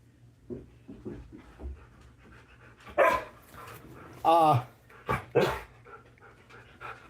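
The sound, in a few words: dog barking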